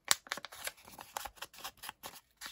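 Scissors snipping through decorative book page paper for a junk journal, a quick irregular run of crisp close cuts with short pauses and no talking.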